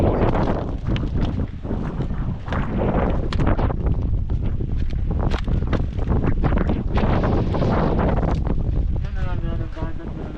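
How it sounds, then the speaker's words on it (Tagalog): Strong typhoon wind with rain roars continuously and loudly across the microphone, buffeting and gusting throughout without letup. "dahil lakas ng hangin tapos pa uwan-uwan ulan"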